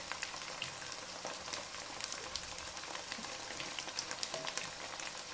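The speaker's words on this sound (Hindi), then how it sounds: "चलिए 2 मिनट हो गए, अब इसमें हम गोश्त डालते हैं।" Mutton pieces hit hot oil in a frying pan for a peas-and-meat curry, setting off a steady, crackling sizzle that runs throughout, close and fairly quiet, with no one speaking.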